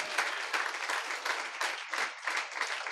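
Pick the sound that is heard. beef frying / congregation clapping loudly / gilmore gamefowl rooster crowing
congregation clapping loudly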